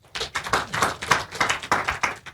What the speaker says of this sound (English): Make una clap for them.